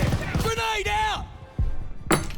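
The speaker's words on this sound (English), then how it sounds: "Grenade out!" A grenade thrown in Call of Duty Vanguard lands and clinks with a few bright metallic bounces, mixed with voices and wartime background noise, then a sharp thud near the end.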